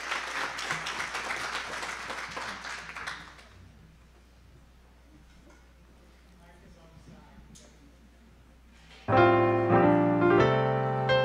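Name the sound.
audience round of applause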